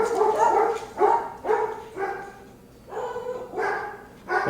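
Several dogs bark repeatedly as company arrives at a house, loud and close, in uneven bursts of sharp barks with a few higher yips mixed in.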